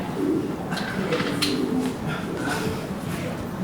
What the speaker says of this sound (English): I'm free to appreciate the gray cloud of pigeons overhead.